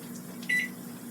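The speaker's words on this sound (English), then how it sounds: "Let me turn this microwave on." A kitchen microwave oven gives a single short electronic beep as it is switched on, close and clear over a steady low hum.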